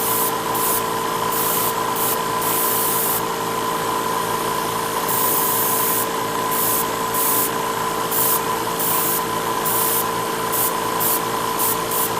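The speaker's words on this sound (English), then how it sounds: "I'm not going to bore you with all this priming of parts" An airbrush or spray can primes plastic Gundam model kit parts, making a constant hissing spray with steady rhythmic pulsing bursts in the highs over a motor-like hum, close and without speech.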